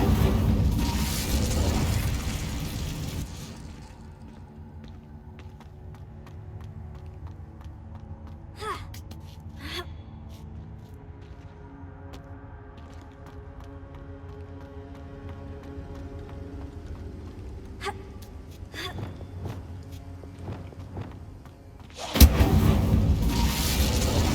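Incendio fire spell cast in Hogwarts Legacy: a loud, roaring burst of flame at the start, a long, quiet stretch with faint scattered clicks and thumps, then another loud fiery blast near the end.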